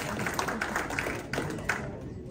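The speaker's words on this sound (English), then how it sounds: "Everybody clap." A small audience at an indoor presentation gives faint, scattered claps, a few distinct hand strikes rising above a quiet room before fading out.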